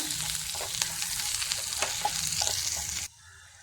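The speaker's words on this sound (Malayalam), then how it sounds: "ഒന്ന് ഇളക്കി കൊടുക്കാം" Chilli and turmeric powder sizzling in a hot pan while being stirred, a bright continuous frying hiss with scraping spoon strokes, then cutting off abruptly near the end.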